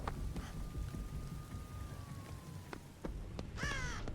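A crow caws once, clearly, in a Dead by Daylight match. Steady rain and ambient game noise sit underneath, along with a faint tonal hum and a few clicks.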